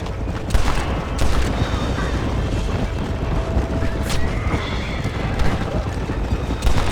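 Gunfire in the Western video game Red Dead Redemption, a dense steady barrage of shots with clattering hoofbeats amid the noisy action, continuing throughout with occasional louder bursts.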